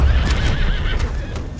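A horse in Red Dead Redemption 2 neighs with a loud, wavering whinny, joined by hoof clip-clop over a steady game background, with no talk.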